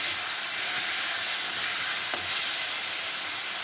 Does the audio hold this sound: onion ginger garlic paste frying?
yes